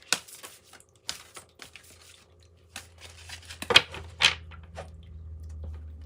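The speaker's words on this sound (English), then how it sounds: "This deck is extremely hard for me to shuffle with" A stiff tarot deck is shuffled by hand, with short papery riffles and slaps of cards arriving in scattered bursts, a couple of louder snaps near the end, close and clear over a low hum.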